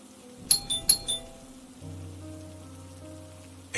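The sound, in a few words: doorbell ringing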